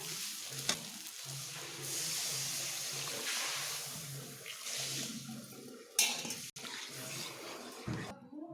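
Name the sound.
water being poured into curry in a pan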